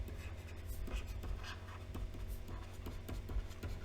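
A pen scratching out physics notes by hand while working a wave optics problem: quick, close strokes and taps in an irregular rhythm under a low steady hum.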